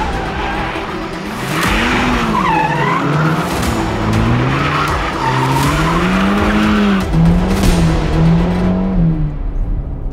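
A Ferrari Roma sports car with a V8 engine drifts, its tires squealing in long wavering howls over a loud engine. The sound is close and continuous, with no talking.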